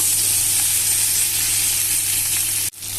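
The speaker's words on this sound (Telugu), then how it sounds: "ఇవి వేగుతున్నాయి చూడండి." Brinjal frying in oil in a pan gives a loud, steady, close hiss and sizzle that holds evenly, then cuts out briefly near the end before resuming.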